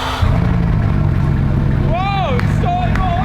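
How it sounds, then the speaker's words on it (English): A Bugatti Chiron's W16 engine cranks and catches, settling into a loud, steady low rumble, while a voice exclaims over it. "fired up the W16 engine for the first time"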